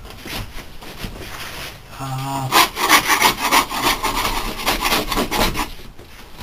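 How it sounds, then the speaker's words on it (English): A putty scraper scrapes old wood during an interior teardown, giving a run of close, rough rasping strokes that grow louder and denser after a brief pause. "Just using one of these putty scrapers."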